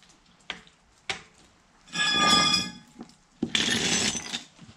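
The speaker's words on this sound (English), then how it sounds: "Tools out of the way." Metal tools clink and clatter as they are moved aside during rear brake replacement on a 2014 Ford Fusion Titanium, with a few sharp knocks followed by two longer rattling, scraping bursts close by.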